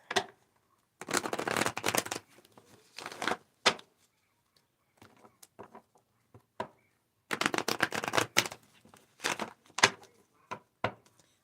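Tarot cards are shuffled in two long riffling bursts, each followed by scattered shorter taps and flicks, close up and fairly quiet, with no voices.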